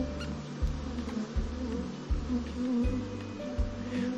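A bee or similar insect buzzes steadily and close for several seconds, its drone pulsing in short repeated surges over a faint background, with no voices.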